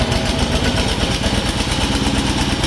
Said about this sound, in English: Press the start button on the control panel to start the engine.